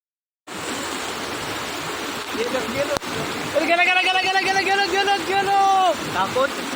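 A river in Vetal Bambarde village in Konkan, flooded after torrential rain, roars steadily and loudly throughout, while people shout and call out over the rushing water.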